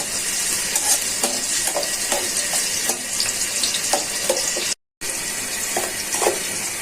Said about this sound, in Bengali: পেঁয়াজটা ভালো করে ভাজা হয়ে যাক।